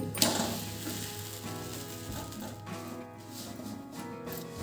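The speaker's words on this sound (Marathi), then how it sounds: "त्यावर आता मी लाटलेली पोळी टाकते" Rolled fenugreek flatbread dropped onto a hot oiled griddle over a gas flame, giving a steady close sizzle that holds for several seconds, with a faint tonal hum running underneath.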